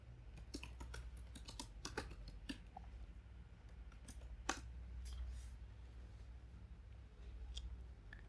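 Quiet typing on a computer keyboard, irregular bursts of light key clicks with pauses, over a low steady hum.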